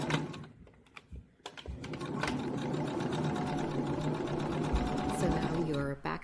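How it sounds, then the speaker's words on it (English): Sewing machine stitching a seam along the outside edge of beach coverup fabric, a steady fast mechanical whir running continuously for most of the clip after a few brief starts and bumps, with a voice talking over it. "you want to make sure you're sewing just on the outside edge of that"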